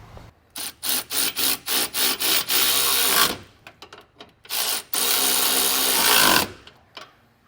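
A power tool tightens bolts behind the bumper while a hidden front-mount trailer hitch is fitted: bursts of whirring in a quick row of short pulses, then longer sustained runs, close and loud, with no talk.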